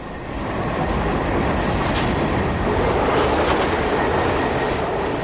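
A Class 37 diesel locomotive hauling a passenger train near Blackpool rumbles steadily past with a continuous heavy roar and faint rhythmic wheel clatter, no voices.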